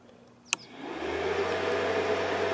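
A cooling fan on a DRZ 400 motorcycle, worked by an added switch, starts after a sharp click and spins up into a steady, soft whirring hum that holds to the end, close by and with no talk.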